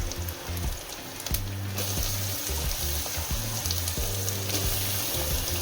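Yam sizzles loudly as it is tempered in hot oil with ginger-chili paste, a steady crackling hiss over a low background hum.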